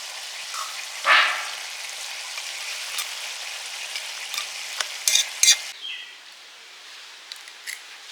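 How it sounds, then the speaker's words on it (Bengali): Pieces of fish dropped into a spicy fish curry in a pan, a sharp burst of sizzling followed by steady frying crackle and a few clinks of stirring, heard close with no talk. "মাছের ঝালে মাছগুলো দিয়ে দিলাম।"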